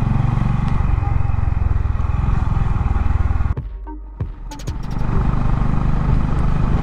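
A Honda CB350 Highness motorcycle climbs a steep hill road toward Nainital, its engine droning steadily and loud up close, then briefly dropping away during a gear change before pulling again in a lower gear.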